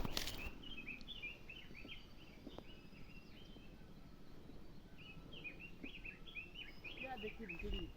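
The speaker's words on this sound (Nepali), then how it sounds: "चराहरूको कुराकानी हुँदैछ ल गाइस" Birds chirp in short repeated bursts in a village, faint and somewhat distant, over a low outdoor background rumble with occasional brief knocks.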